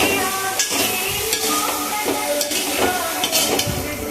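Kantola (spiny gourd) sabzi stir-frying in a pan with ground coriander and garlic, a steady close sizzle with repeated scraping stirs throughout, no talking.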